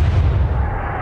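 A naval gun fires in the naval warfare game Atlantic Fleet with a single loud, deep, rumbling boom that fills the short moment.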